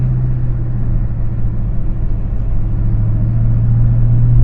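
Dodge Hellcat with 717+ horsepower rolling onto the highway, a deep steady engine rumble heard from inside the car, constant and fairly loud with no talk.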